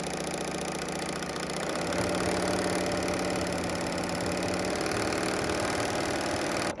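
Bernina L 890 sewing machine stitching a chain for a shoelace, a steady fast mechanical whir and rapid needle clatter running loud and close throughout, with no voices.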